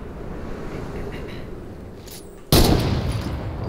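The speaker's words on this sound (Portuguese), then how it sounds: "para que esse tiro não pegou" Gunfire in the Fortnite video game: a quiet stretch of gameplay ambience, then a sudden loud shot or burst near the end that keeps ringing afterward.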